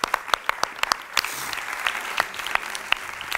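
Audience applause starts as a few crisp, separate claps and then swells into a busier patter of many hands. It is moderately close and carries on with no voices over it.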